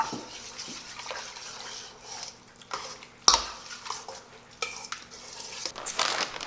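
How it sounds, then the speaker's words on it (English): Spoon or spatula stirring shredded cheese into mac and cheese in a crockpot, with soft scraping, clinking against the pot and wet squishing, plus a sharper clank near the middle, close and fairly quiet with no talk. "I feel like I need to stir a little bit to get it all mixed in"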